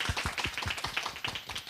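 Audience applause at a Hong Kong university lecture event, a dense run of fast overlapping claps that holds steady from start to finish, with no voices over it.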